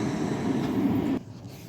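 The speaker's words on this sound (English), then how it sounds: "Tram arriving." A tram arriving at a stop in Prague in the early morning sends a close, heavy low rumble and rail hum that holds steady for about a second, then drops off sharply to quieter background noise.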